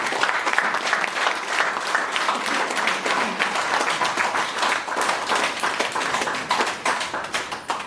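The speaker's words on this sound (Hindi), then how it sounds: "और सभी के लिए बहुत जोरदार तालियां हो जाए" Vigorous applause from a corporate group at a laughter yoga session for Gail India staff, many hands clapping fast and loud in a continuous, even roar that fills the room and barely dips throughout.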